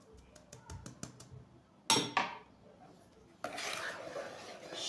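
A sieve is tapped in a quick series of light knocks while sifting baking powder and vanilla over cake batter, then a metallic clatter and a soft rustling hiss follow.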